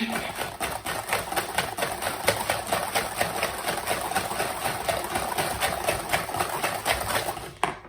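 An electric mixer beating sugar into Greek yoghurt cheesecake batter, with a steady loud whir and rhythmic beater clatter running nearly the whole time before stopping abruptly at the end.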